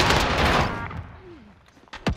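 Video game gunfire aimed at the player bursts out loud and dense at first, then thins and fades, with a few sharp cracks near the end.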